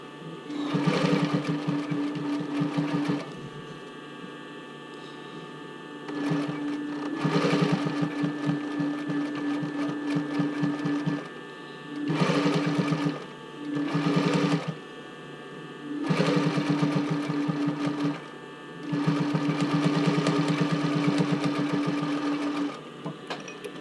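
A sewing machine stitches along the edge of velvet on a bra cup and band, running in several loud whirring bursts separated by short pauses, close up with no talking.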